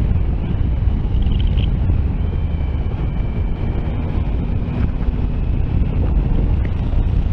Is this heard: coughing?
no